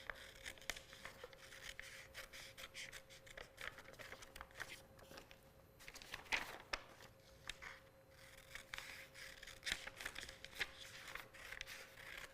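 Scissors snipping through paper for a junk journal, a steady run of small crisp cuts with faint rustling and crinkling, quiet and close, with no talking.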